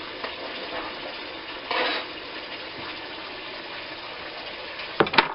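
Homemade hashbrowns frying in a pan give a steady, soft sizzle throughout, with a brief louder hiss partway and a few sharp utensil clinks near the end.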